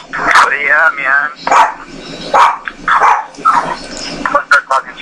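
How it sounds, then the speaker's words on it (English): A big dog barking in a series of loud, close woofs with some growly yips, several barks spread over a few seconds, mixed with people talking nearby. "That's a big dog."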